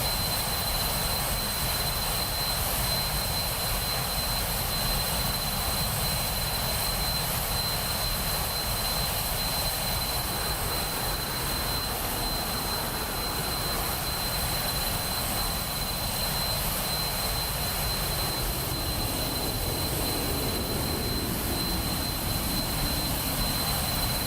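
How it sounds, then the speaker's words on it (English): Jet engine roar inside a HondaJet in Microsoft Flight Simulator 2024, a steady broadband rumble with a faint passing airplane beneath, no talking. "we can hear that airplane that was just flying underneath of us"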